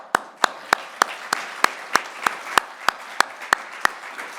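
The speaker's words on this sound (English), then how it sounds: "And for that, I am going to clap." A single person claps steadily at an annual meeting, about fifteen sharp, evenly spaced handclaps at a brisk pace, close and clear over a faint background.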